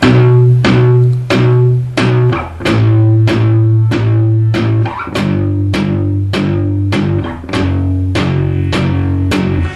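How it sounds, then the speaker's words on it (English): Chugging palm-muted electric guitar power chords, each chord picked four times in a steady rhythm, loud and close with no voice. "apply that palm muting technique now to the little power chord sequence"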